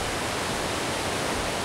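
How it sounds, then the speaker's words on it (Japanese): Dense, continuous roar of water at the Kani waterfall, one of the Kawazu Seven Falls, a loud, even broadband rush with no voices. "カニの滝です。"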